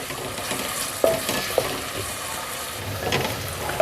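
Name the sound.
onions frying in a pan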